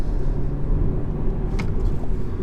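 A 2019 BMW 320i accelerates hard from inside the cabin, a loud, steady low engine drone and road rumble holding through the high rev range, with a brief faint higher sound partway through.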